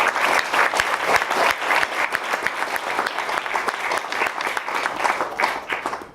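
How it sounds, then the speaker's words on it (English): Audience at a journalism awards ceremony breaks into sustained applause, dense steady clapping from many hands filling the room with no voices over it. "we can applaud for the excellent work all around"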